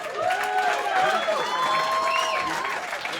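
Applause and cheering from a comedy club audience at a roast battle tournament, a steady dense wash of clapping with crowd noise throughout, and voices calling out over it.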